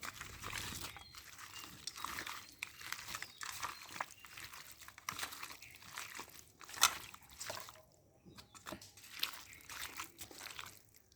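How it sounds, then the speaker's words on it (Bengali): Chicken being marinated by hand with mustard oil, faint wet squelching and slapping as the meat is squeezed and turned, quiet and steady with a few small clicks. "আমি সুন্দরভাবে হাত দিয়ে ম্যারিনেট করব"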